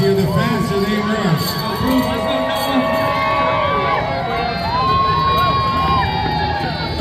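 A crowd at a kids' mile dash keeps up continuous cheering and shouting, with children's voices and whoops rising and falling at close range and people talking throughout.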